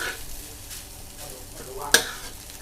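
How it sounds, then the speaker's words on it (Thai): Rice with shrimp paste is stir-fried in a pan over medium heat, giving a soft, steady sizzle and scraping, with one sharp utensil clink near the end. "ไฟไม่ต้องแรงใช่ไหม อืมากลาง คั่วไปเรื่อยๆ"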